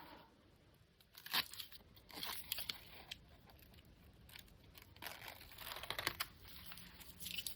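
Backing paper is peeled off a sheet of Heat and Bond fusible web, giving a series of soft crackling, tearing rustles in short bursts, close and fairly quiet, with no talking.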